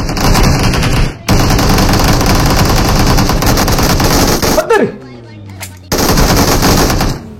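Rapid automatic gunfire in a video game, loud bursts filling most of the clip, with a short gap near the start and a longer lull near the end before firing resumes.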